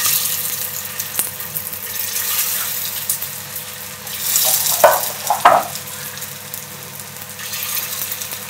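Soybean and potato tikki shallow-frying on medium gas, browning crisp on both sides; a steady close sizzle runs throughout, with a few sharper spatters and utensil clinks around the middle and no talking.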